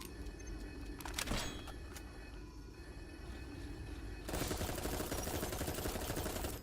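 Enemy gunfire crackles through a video game demo, a dense steady rattle of shots that grows louder and busier near the end, with no talking over it.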